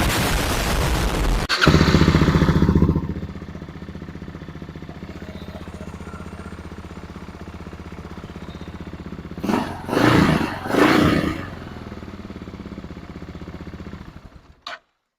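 A Kawasaki KLR650 motorcycle engine cranks and catches with a loud burst, then settles into a steady, close idle, broken by two or three sharp throttle revs before cutting off near the end.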